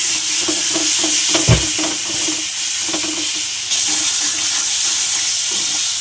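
A ginger, garlic and tomato masala paste frying in a pan, with a steady bubbling sizzle and rhythmic stirring scrapes, one heavier knock partway through, close up and without voices.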